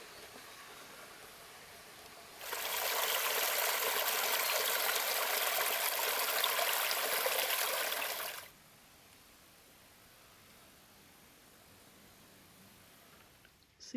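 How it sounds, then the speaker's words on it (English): Steady broadband rush of a small, crystal-clear forest creek flowing swells in for several seconds, then cuts back to a quiet background. "A lovely little crystal clear creek."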